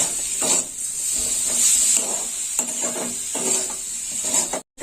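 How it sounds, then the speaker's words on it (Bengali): Sour hog plum curry with salt and turmeric powder fries and hisses in a pan while a spatula stirs it in repeated soft scraping sweeps, ending in a sudden cut. "ভালো করে নেড়ে চেড়ে নেবো আমরা।"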